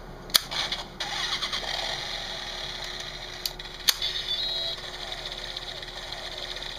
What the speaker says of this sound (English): Except the motorcycle sounds drown out that.